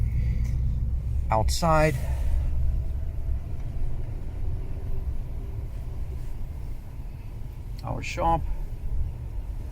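A 1987 Chrysler Fifth Avenue rolls along at low speed, its engine and road rumble a steady low drone inside the cabin, with a voice speaking briefly twice over it.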